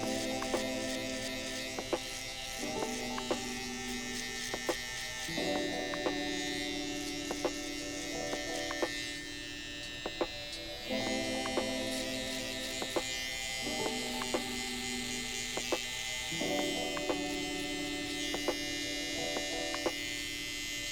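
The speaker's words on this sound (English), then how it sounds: "I'm gonna go back to my Barber FX trimmers, and I'm gonna go ahead and cut down all this bulk" Barber FX electric hair trimmers buzz steadily while cutting down bulk at the bottom of a low fade, the pitch and load shifting in repeated passes as the blades move through hair, close and continuous with no talk.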